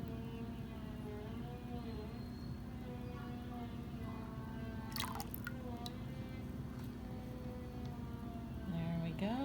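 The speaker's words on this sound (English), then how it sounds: "Pour the lye solution into the oil." Lye solution is poured into oil for soap making, giving a faint, steady liquid trickle and soft drips at close range under a low background hum, with a few brief clinks.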